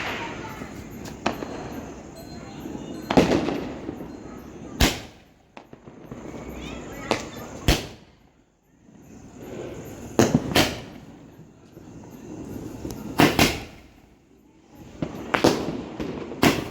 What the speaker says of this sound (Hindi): हम लोगों ने काफ़ी देर तक बाहर पटाखे फोड़े हैं